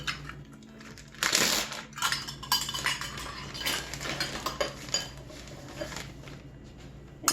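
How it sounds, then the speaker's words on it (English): A dry measuring cup scoops powdered sugar from a container, making clinks and scrapes with one loud rattling burst near the start, followed by smaller taps and scuffs up close. "So you're just going to take a dry measuring cup,"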